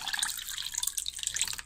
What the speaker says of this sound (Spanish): entonces en este transcurso vamos echando también el agua al ambiente